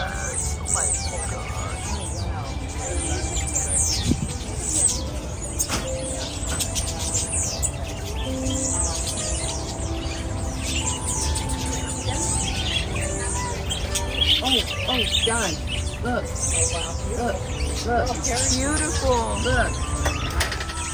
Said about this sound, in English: Oh my god, look at those beautiful birds!